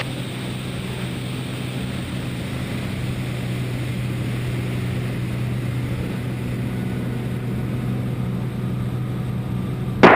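Cessna light aircraft engine during an aerobatic loop over Seattle, a steady loud propeller drone heard from inside the cockpit, holding constant throughout with a sharp burst at the very end.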